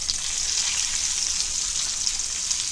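Whole fish fries in hot oil, a continuous close, crackling sizzle with fine popping, steady in volume and free of talk.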